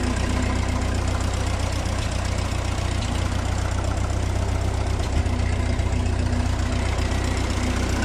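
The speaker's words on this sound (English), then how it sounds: "It's got a bit of a miss and only at idle." A 1944 Ford 2N tractor engine idles with a slight miss, a steady low chugging drone that runs close and loud for the whole stretch with faint irregular beats in the rhythm.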